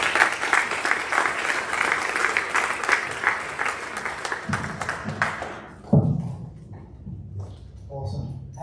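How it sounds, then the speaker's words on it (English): An audience at an accepted students night for a school's incoming class claps loudly for student MCs, sustained applause that fades after about six seconds into scattered thumps and a voice talking. "give a round of applause for our student MCs"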